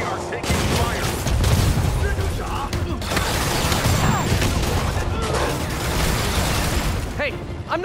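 Rapid gunfire rattles at an armored personnel carrier in Marvel's Spider-Man video game, with bursts and pops packed into a loud, continuous barrage while a voice calls out over the shooting.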